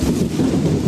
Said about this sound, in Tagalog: Pumapasok ang ulan.